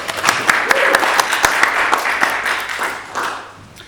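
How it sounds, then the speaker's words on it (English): Audience applause at a film festival Q&A, a crowd clapping steadily and fairly close, with a few sharper individual claps standing out before it thins toward the end. "round of applause, please."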